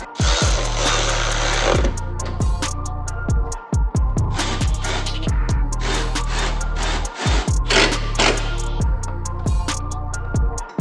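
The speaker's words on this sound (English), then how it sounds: "we'll go ahead and tighten up this top bolt here and tighten up the bottoms right after" Bolts on a BMW F30 headlight mount being tightened with a power tool, a loud, steady buzzing drone broken by short pauses and repeated bursts, close up with no talking.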